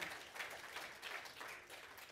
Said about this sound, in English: You're supposed to clap at this point.